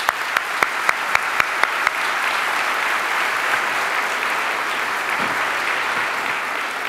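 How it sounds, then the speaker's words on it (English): An audience at a medical school white coat ceremony applauds a member of the first class; a few sharp single claps open, then dense, sustained applause swells and holds evenly until the end. "let's give him an applause"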